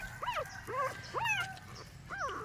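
Several puppies whimper in short rising-and-falling cries, about four separate whines spaced across a few seconds, fairly close and moderately loud over a low background murmur.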